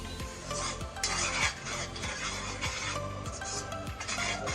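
A spoon stirs green chilli chicken in a pan, with a steady run of scraping and clinking metal against metal in the foreground and no talking.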